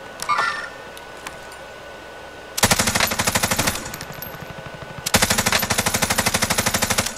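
Automatic gunfire in Warzone, a Call of Duty battle royale game, rattles out in two long, rapid sustained bursts, loud and close, separated by a brief pause, with faint game noise beforehand.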